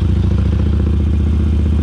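A motorcycle from the United States being ridden, its engine a steady, close, loud mid-pitched rumble with a faint clattery texture and no change in revs throughout.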